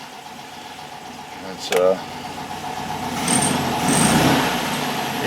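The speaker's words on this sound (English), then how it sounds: "you can see the lights get brighter as you rev the motor up" A 1965 VW Beetle engine idles steadily, then revs up and holds higher, fairly close, with someone talking over it.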